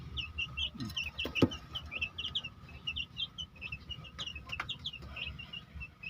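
Soft clucks and chirpy calls from several chickens, repeated in loose bursts over a low background rumble, with a couple of sharper knocks.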